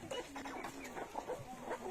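Soft clucks and chirps from several young chickens overlap in a quiet enclosed brooder, irregular and close.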